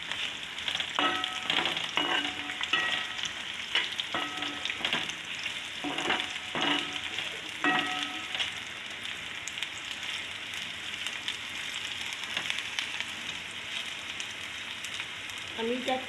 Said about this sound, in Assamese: এতিয়া মই এই তিতা কেৰেলাখিনি ইয়াতে ভাজিলোঁ।